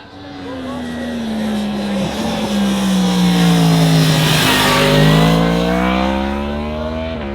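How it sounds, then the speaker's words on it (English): A Yamaha R1M motorcycle accelerates up and out of a corner on a race track, its engine note rising in pitch and swelling in loudness as it passes, with a voice talking over it. "Gets to accelerate up and out of the corner, putting some heat into the tires."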